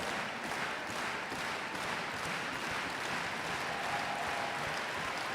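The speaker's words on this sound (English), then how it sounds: "Even the judges standing and clapping." An audience and judges applaud at a ballroom dance competition, a dense, steady wash of clapping heard from a middle distance without pause.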